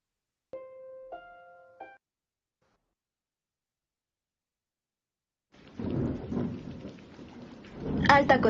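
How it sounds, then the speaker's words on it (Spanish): Rain and thunder sound effect of rain beating on windows that bursts in after a few brief tones and a silent gap, a dense rushing downpour with rolling thunder swelling louder toward the end. "Cuando oigo la lluvia golpear en las ventanas"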